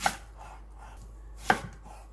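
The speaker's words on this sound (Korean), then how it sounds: "부추 길이가 짧아서 반으로 잘라줍니다." A knife cuts through garlic chives on a cutting board, two sharp distinct chops about a second and a half apart, close and crisp in a quiet kitchen.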